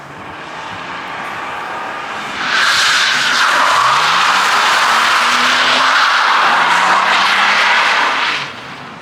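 A car drifts at a drift school, its engine roaring and tires squealing in a long sustained screech that rises and falls for several seconds before fading, with no talking.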